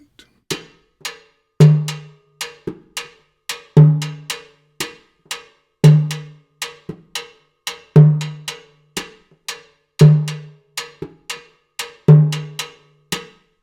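Bossa nova pattern on timbales with tambourine pattern: crisp, sharp metallic shell and head strikes in a steady syncopated loop, with heavier accented hits every two seconds, close and alone.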